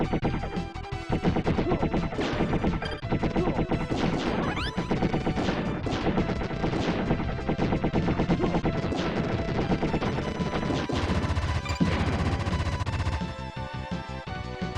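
Dense, continuous rapid-fire shooting from a Vulcan gun in the video game Wild Guns, loud and relentless with crashing impacts and game music throughout, no talk.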